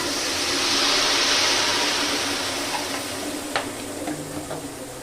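Eggplant bharta fries in a pan after a splash of water: a loud, hissing sizzle that eases gradually, with a few scraping stirs and clinks toward the end.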